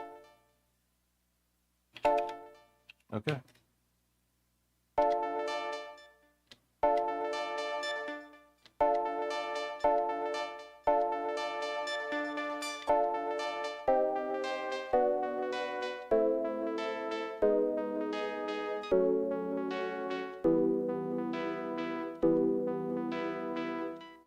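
A resampled synthesizer sequence plays from an Elektron Digitakt 2 as a steady run of bright, pitched notes that step through changing pitches, clear and alone after a brief word at the start.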